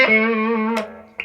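A Les Paul electric guitar played on its neck pickup rings out a single sustained, harmonically rich note that decays, followed by a brief pick attack on a new note just before the end.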